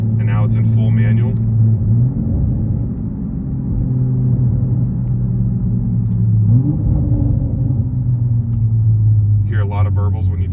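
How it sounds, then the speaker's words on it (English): A Toyota Supra A90 or BMW M2 G87 sports car exhaust rumbles loudly with deep burbles as it downshifts in manual paddle mode, with engine tone stepping up and down, while a person talks briefly at the start and end. "Hear a lot of burbles when you downshift and pops."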